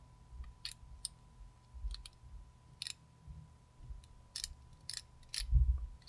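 Car key being slowly pushed into a door lock cylinder as part of an immobiliser and theft demonstration, giving a series of small, sharp metallic clicks and scrapes spread over several seconds, close and fairly quiet over a steady faint hum.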